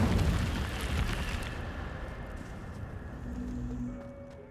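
A fire spell cast in Hogwarts Legacy bursts out in a loud, roaring whoosh at the start, then fades into a softer crackling rumble with a brief hum near the end.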